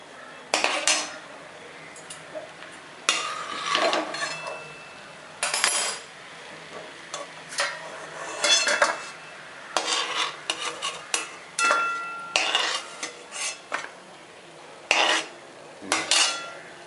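Cashews being dry-roasted for rava kesari, stirred in a metal pan with a spoon that scrapes and clinks in irregular bursts, close by and moderately loud, with quiet gaps between strokes and no talking.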